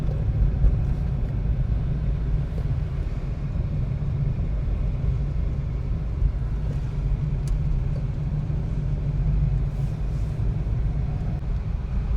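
A tractor rumbles steadily along a road in a rural village beside an old temple in Tamil Nadu, a continuous low engine drone that stays fairly close and even for the whole stretch, with no talk.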